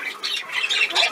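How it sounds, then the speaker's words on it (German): A flock of birds squawks in a dense, overlapping burst of harsh calls, close and loud for about a second. "So viele Vögel auf einmal, aber erst gar keine mehr und jetzt so viele, oder?"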